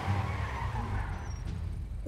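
Motorcycles race and skid in GTA 5 roleplay, a short burst of engine rumble and tire scrubbing at moderate level that fades slightly near the end, with no voices.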